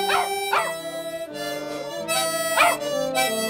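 A dog howls along with a live family band's music, its rising and falling howls clearly audible over sustained instruments, with two stronger howl bursts near the start and another later in the passage.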